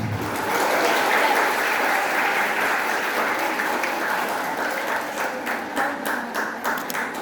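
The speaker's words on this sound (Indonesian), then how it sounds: "Tepuk tangan dulu." Sustained audience applause at an Islamic lecture gathering, a dense, even wash of clapping from a large crowd that holds steady and thins slightly toward the end.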